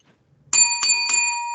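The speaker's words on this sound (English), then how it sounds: "there's the bell, so we know what that means." A bell rings out to mark the close of a wrestling podcast episode, with three bright, sustained tonal strikes in quick succession that ring on clearly and alone.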